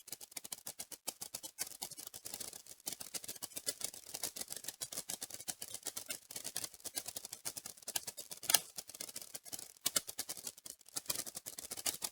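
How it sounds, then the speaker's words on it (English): Roccat Vulcan II Max mechanical keyboard keys are pressed in rapid, uneven bursts, sharp close-up clicks and clacks continuing throughout with no talking. "so you guys can hear the sound of the keyboard"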